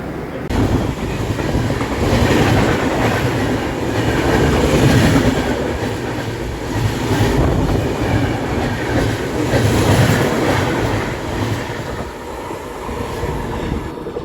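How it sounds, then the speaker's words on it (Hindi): Patna Ahmedabad Express (19422) pulling out of Chhayapuri station after a half-hour halt: a steady, loud rumble of rolling train wheels with rhythmic clatter and occasional faint squeal, continuous throughout with no talk. "तो फाइनली आधे घंटे के ठहराव के बाद हमारी ये ट्रेन छायापुरी रेलवे स्टेशन से निकल चुकी है।"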